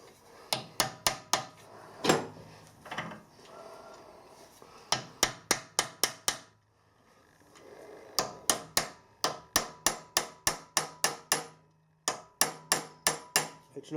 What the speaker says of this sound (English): you can often get away with simply tapping them around with a centre punch